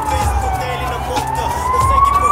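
Emergency siren wails steadily with a slowly rising tone, loud and close over a low rumbling background, with voices briefly audible beneath it.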